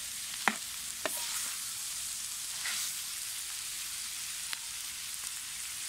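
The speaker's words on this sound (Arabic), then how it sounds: "نزل الماي وبدا ينشف عندي، راح احمس بيه" Lamb liver sizzles and fries steadily in a saj pan as it dries out, with a few sharp clicks and scrapes of stirring on the metal cutting through the even, close hiss.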